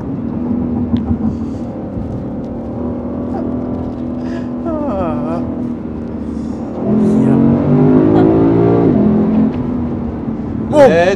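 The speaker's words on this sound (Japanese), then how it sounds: "気分はもう音とかね、回転の上がり方と気分はレーシングカーですね" Lexus IS500 sedan's V8 engine revving on a mountain pass road, heard from inside the cabin as a steady rumble that climbs in pitch, with people chatting throughout.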